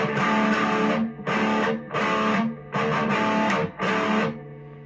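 Heavily distorted electric guitar pounds out a riff in repeated chunky bursts separated by brief stops, close-miked and loud, no voices.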